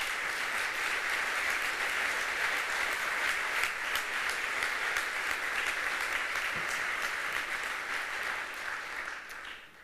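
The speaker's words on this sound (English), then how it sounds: "Please give a big round of applause to people like Linda and Esther" Steady audience applause at a formal gala dinner, a dense wash of many hands clapping at even loudness that tapers off at the very end, with no talking over it.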